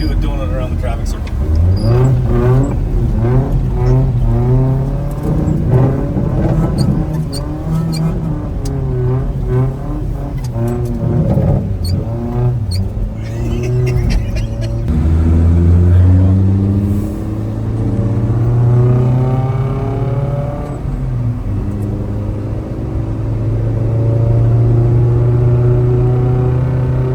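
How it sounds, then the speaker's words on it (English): A Subaru Sambar kei truck circles a snowy traffic circle, its small engine droning and revving in rising and falling pitches, close and loud, while people talk over it. "Maybe we could do donut around the traffic circle."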